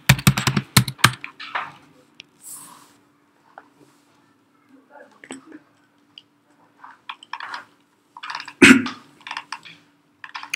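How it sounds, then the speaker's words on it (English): Fingers type on a computer keyboard in quick bursts of close key clicks, pausing between short runs, with near silence in the gaps. "Let me type the word Achievers here."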